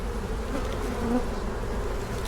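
Honeybees buzz steadily around hive frames packed with brood during a swarm check. The hum is dense and continuous, with no voices over it.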